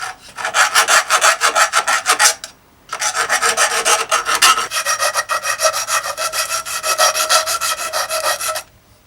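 Hand sawing through a mountain bike suspension fork steerer tube, close and loud: steady back-and-forth rasping strokes in three bursts separated by brief pauses, with no talking.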